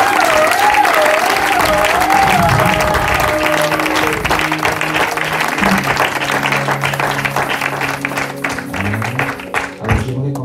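A church congregation applauds and cheers loudly and continuously, with dense clapping and a few shouts carrying over sustained musical tones, the applause thinning slightly toward the end.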